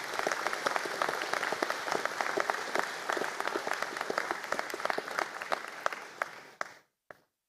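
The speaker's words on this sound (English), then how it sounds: "stand for a round of applause" Audience applause for engineering graduates standing at a college conferring ceremony, dense sustained clapping from a large crowd with sharp individual claps, continuing evenly for several seconds before fading and cutting off.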